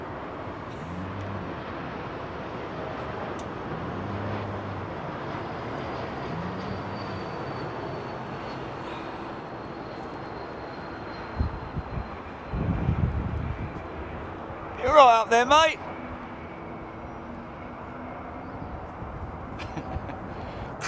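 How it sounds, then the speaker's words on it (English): At Heathrow Airport an Embraer E2 jet passes as a low, fairly quiet engine hum with a faint descending whine. A brief bird call and a short spoken remark come partway through. "This is the Embraer E2 jet"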